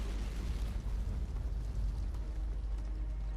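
A house being blown apart in the Sudden Strike World War II strategy game, heard as a continuous low rumbling roar of explosion and collapse, dense and steady throughout.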